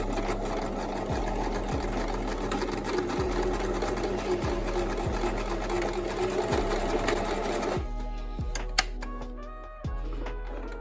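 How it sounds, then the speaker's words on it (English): Sewing machine stitches the seam of a small fabric hat for a miniature figure, a fast steady mechanical whir with rhythmic needle ticks, close and continuous before stopping abruptly near the end with a few faint handling clicks. "we are just going to sew the seam"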